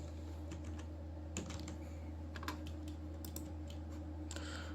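Computer keyboard typing, quiet and close, in a few quick bursts of clicks with short gaps between them, over a low steady hum and no talking.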